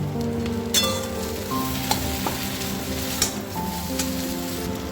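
A spiced potato mixture with whole fried nuts is stirred in a pan for egg potato patties, with steady sizzling and frying, occasional scraping clinks of the spoon, and no talking.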